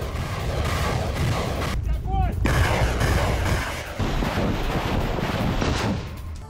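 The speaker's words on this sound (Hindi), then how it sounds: "यूक्रेनी सेना पर ग्रैड MLRS से रूस के हमले।" Grad MLRS rocket artillery fires in a continuous roaring barrage outdoors, with wind buffeting the microphone. A brief whooshing gap comes partway through, then the launches resume.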